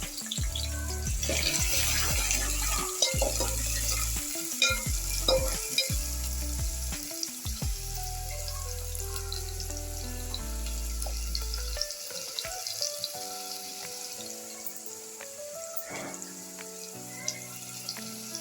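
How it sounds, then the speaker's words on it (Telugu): Chopped onion fries in oil in a pan until golden for tomato sharva, a steady sizzle with stirring clatter and utensil knocks, no voices. "మనం కట్ చేసుకున్న ఆనియన్ ఇందులో వేసేస్తాం. గోల్డెన్ ఫ్రై వచ్చే వరకు వేయించాం."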